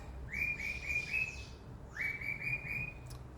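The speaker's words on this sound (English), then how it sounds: "sorry, my bird is distracting me now." Pet bird chirping indoors, two clear bursts of quick, high repeated tweets separated by a short pause, moderately close over quiet room noise.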